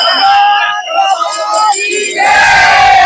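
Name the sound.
devotees' crowd cheering jubilantly at a festival procession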